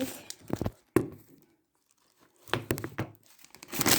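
A bag of Lay's crisps is ripped open with sharp crinkling tears, a pause, then more rustling and crumpling of the foil packet, close and fairly loud.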